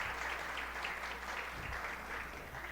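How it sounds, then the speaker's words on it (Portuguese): Guests at an academic lecture on crimes of responsibility applaud as professors are welcomed, a continuous rush of many hands clapping, heard from some distance at a subdued level. "Uma salva de palmas, por favor"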